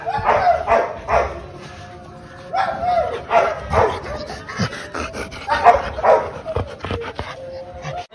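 Several dogs at a breeding kennel bark, yip and whimper close by in repeated bursts while being brushed, loud and restless, with a short lull in between.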